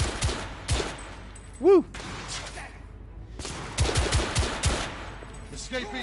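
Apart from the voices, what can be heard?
gunfire in the video game The Order 1886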